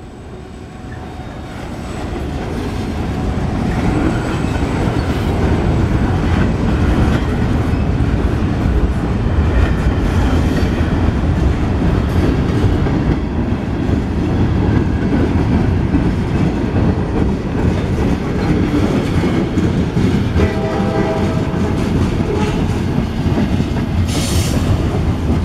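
A short CSX southbound freight train passing in Marion, Ohio, its loud rumble building in the first seconds and then holding steady with rail clatter and occasional wheel squeal, heard up close with no talking.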